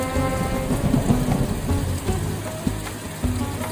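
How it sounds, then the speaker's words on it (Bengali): Rain and thunder in an animated Islamic cartoon: heavy steady rainfall on surfaces with deep low rumbles of thunder rolling beneath, no voices. "বৃষ্টিটা এখন কি সুন্দর লাগছে।"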